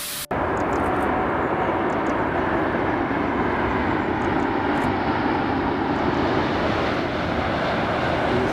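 Fixed-wing airliner passing at Manchester Airport, a loud, continuous broadband engine roar that stays steady and close throughout after a brief quieter start.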